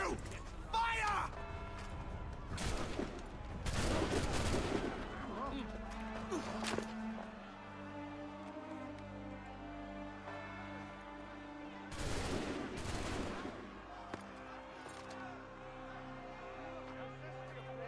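Musket volleys in Assassin's Creed III, two loud crackling bursts of many near-simultaneous shots with rolling echoes several seconds apart, mixed with footsteps, clattering and an ambient musical drone.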